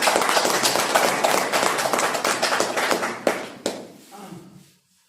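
An audience at a business-plan presentation for an herbal network-marketing company claps for the company founder, a brisk burst of hand claps with a few sharp accents that tapers off and stops near the end.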